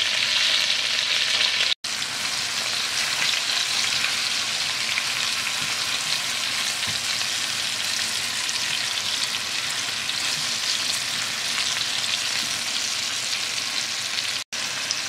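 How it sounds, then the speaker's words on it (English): Pieces of squash sear in a hot pot, giving a steady, dense sizzle that runs loud and unbroken for the whole stretch, with only two brief drop-outs and no talking. "we're going to try and get a sear on the different pieces of squash so it doesn't disintegrate later as we cook it"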